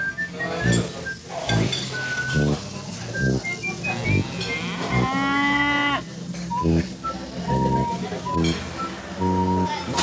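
Cattle mooing at a farm, several drawn-out lowing calls spread through the clip, one long moo in the middle, with people talking over and between them and a faint metallic clink.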